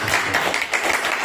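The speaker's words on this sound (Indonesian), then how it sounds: "Tepuk tangan aplaus buat beliau." Audience applause at a school teachers' dissemination session: a brief, moderately loud burst of many hands clapping.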